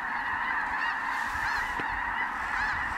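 A huge flock of snow geese honks continuously in North Dakota, a dense, loud wall of overlapping calls with no voices.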